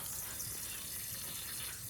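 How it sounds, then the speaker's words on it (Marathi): Water runs steadily from a tap in a constant, soft gushing stream, with no other sounds. "पिण्याचं पाणी पिण्याचं पाणी वाया चाललंय"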